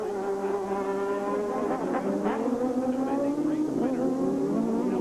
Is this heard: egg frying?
no